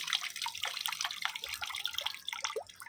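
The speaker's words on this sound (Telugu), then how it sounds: "సెకండ్ టైం కూడా కొంచెం వాటర్ యాడ్ చేసుకొని ఇందులో ఉన్న రసం మొత్తం కూడా తీసేసుకుంటున్నాము" Water poured over crushed plant material and the juice squeezed out makes quick, irregular drips and splashy trickles, close and fairly faint, with no talking.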